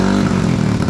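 A motorcycle engine runs close by with a steady, loud, rough idle throughout. No voices are present.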